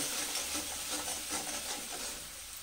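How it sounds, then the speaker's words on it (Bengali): Masala for doi ilish, with sugar, salt and green chillies, sizzles softly in a pan as it is fried down, a steady faint hiss with light stirring and no voices. "মশলাটা 2 মিনিট কষে নিলাম।"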